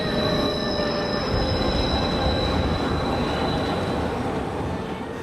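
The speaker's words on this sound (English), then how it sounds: "We got a train going down the center of our street, elevated train. The sounds we hear are screeching sounds." An elevated train runs down the middle of a city street, its wheels letting out a loud continuous metallic squeal over a heavy rumble and roar, close and unbroken throughout.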